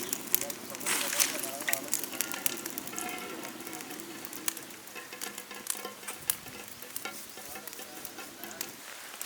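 Ghee poured into hot oil for Dindigul-style biryani sizzles and crackles steadily, with stirring and spattering up close and a person talking over the frying.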